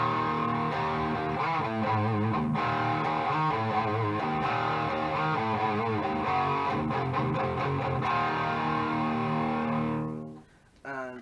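An electric guitar plays through an amp's crunch channel on the bridge pickup with no boost and no reverb, giving a steady, moderately loud distorted chord-driven passage that cuts off near the end, with no one speaking.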